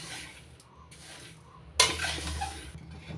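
Sugar is stirred into raw mango pieces in a pan, soft scraping and stirring that turns louder and clattery for the last second or so, with no voices.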